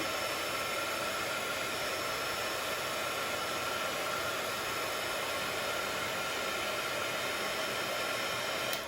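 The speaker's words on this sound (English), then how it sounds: "heat tool is the next thing you need in order to emboss. And you can heat this from the bottom and you'll see it slowly melt." A heat embossing tool blows hot air steadily to melt embossing powder from underneath for stamping, a continuous close hiss like a hair dryer running without pause and with no talking.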